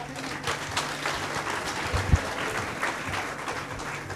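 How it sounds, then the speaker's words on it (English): An audience applauds to welcome student performers at a school's concluding function, steady distant clapping from a large hall with a faint thump near the middle. "Let's welcome our performers with a big round of applause."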